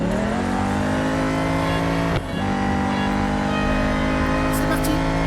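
A Corvette engine in the mobile racing game Real Racing 3 holds a loud, steady rev with a brief dip and recovery midway, under a voice talking throughout.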